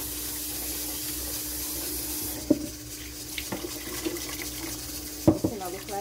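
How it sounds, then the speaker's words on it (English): Tap water runs steadily into a sink while rice is rinsed by hand, with a few sharp clinks and splashes of grains and water in the bowl. "I'm washing my rice. I'm just washing it until it's clean"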